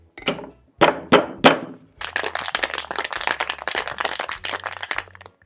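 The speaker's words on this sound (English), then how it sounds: "we're gonna shake this drink up. Gonna add some ice cubes to chill the drink as we shake it." Ice cubes dropped into a cocktail shaker for a holiday tiki drink, three loud clunks, then a long burst of hard rhythmic rattling as the drink is shaken, close and clear with no talking.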